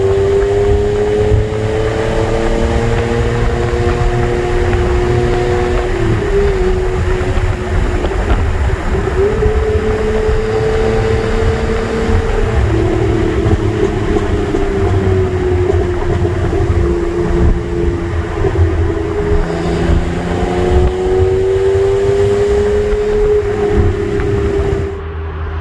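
An Alpine A310 V6 sings through its exhaust while driving, a loud, continuous engine drone heard from inside the car, rising and falling in pitch as it revs and shifts.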